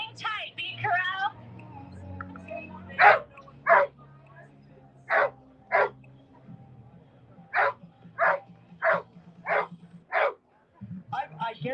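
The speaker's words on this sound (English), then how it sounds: "I guarantee you that dog does not bark like that when it's on a training run" An excited dog at the start line of a 5K race on Denver's Colfax barks in sharp bursts, first a pair and then a steady run of nine or ten evenly spaced barks. A crowd murmurs and a voice talks briefly underneath.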